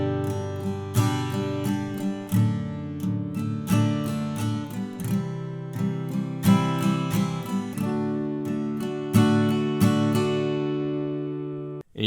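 Acoustic guitar strumming the verse chords of a song, steady four-beat strums per chord, close and clear, playing alone without talk.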